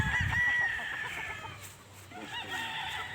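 Hens of the Boston line cluck and murmur on a game farm, a dense close flock sound with a louder burst at the start, then steady overlapping clucking throughout.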